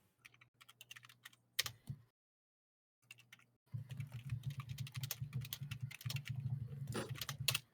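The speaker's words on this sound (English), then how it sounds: "Aggressive typing intensifies." Fast, forceful typing on a computer keyboard clatters in dense bursts of sharp clicks, close to the microphone, pausing briefly in silence before resuming more intensely over a low hum.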